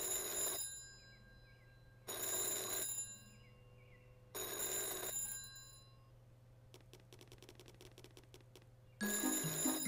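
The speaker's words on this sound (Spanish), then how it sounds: "Suena el teléfono." A telephone rings in the Peppa Pig video game, four loud electronic bursts about two seconds apart with quiet gaps between them, close and clear, plus a softer ticking pattern before the last ring.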